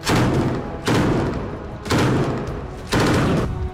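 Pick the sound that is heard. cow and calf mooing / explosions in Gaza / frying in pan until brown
explosions in Gaza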